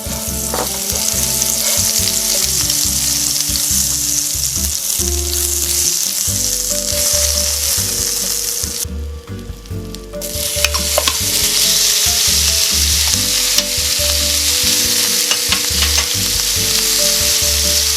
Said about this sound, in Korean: 패드에 오일을 두르고요. 야채를 모두 다 넣어주세요.